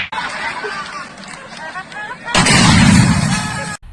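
Firecrackers burst outdoors: a loud, sharp crackling blast erupts partway through and lasts over a second, after a stretch of mixed background noise and voices.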